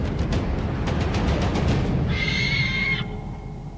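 A single owl hoot in the video game Far Cry Primal rises over steady ambient game noise and a soft rhythmic patter, then cuts off sharply.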